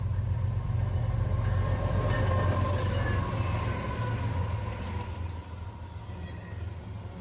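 CSX I-165, a freight train running from Buffalo to Chicago at Berea, Ohio, rumbles past nearby with heavy low wheel and engine noise and a steady broadband roar. The sound eases off gradually toward the end.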